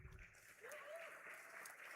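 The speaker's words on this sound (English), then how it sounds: "Claps, please." Audience applause at a university convocation ceremony, a steady wash of clapping from a large crowd that holds for about two seconds, with faint voices underneath.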